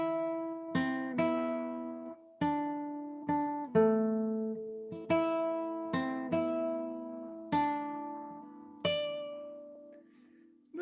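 Requinto guitar playing a melodic line of plucked notes and double stops in a moderate, even rhythm, each note ringing and decaying cleanly, close and alone with no talking.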